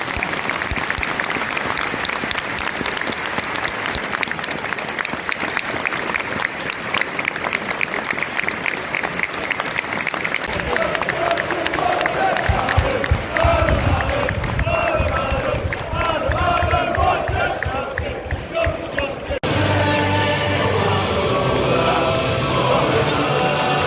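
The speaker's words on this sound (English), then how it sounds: "we invite you to celebrate his life and achievements with a minute's applause" A football stadium crowd at Blackburn Rovers versus Cardiff City gives a minute's applause, a sustained, loud wash of clapping from thousands of fans that thickens midway with some cheering.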